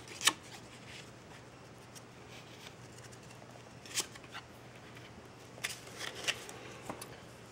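Letter cards being shuffled and then laid out into a five-by-five grid on a table: soft riffling and sliding with several sharp card snaps and taps scattered through a quiet room, no talking.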